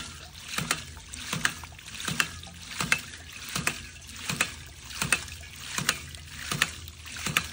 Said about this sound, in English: You'll hear the cycle time slow down as I adjust it.